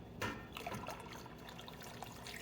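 Water is poured into a canner holding jars of asparagus pickles, a steady trickling and splashing stream that runs continuously at moderate loudness with no talking.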